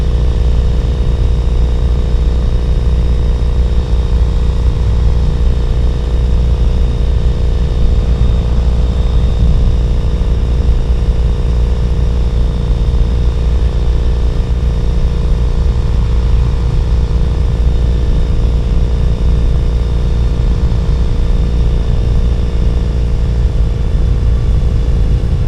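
A Triumph Thruxton 900 motorcycle engine drones steadily while riding on a Tennessee road, a constant loud rumble with wind noise and no speech throughout.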